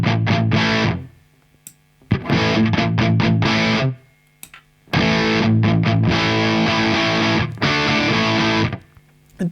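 An electric guitar runs through an Earthquaker Dunes overdrive pedal set to MOSFET mode, playing loud, gritty chord bursts separated by short silences, with sustained distorted strums in the second half.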